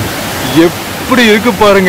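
Water gushing from the sixth shutter of Pechiparai Dam on the Kodaiyar river makes a loud, steady roar close by, with someone talking over it.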